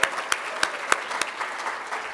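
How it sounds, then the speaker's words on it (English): Applause from an audience at a single-payer strategy conference, a dense wash of clapping heard at a moderate distance with a few sharp louder claps standing out. "I would like you all to give yourselves a large round of applause"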